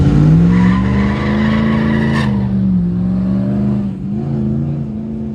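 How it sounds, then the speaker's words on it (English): A truck doing a burnout and donuts at a cruise event, loud continuous engine roar with squealing tires that rises and dips as it circles, close by with no talk. "Dude in the truck did burnout. Like, he did donuts out there for like 3 minutes"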